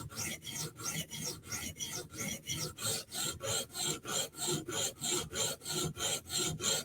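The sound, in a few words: sharpening a Spyderco Sage REX 121 steel knife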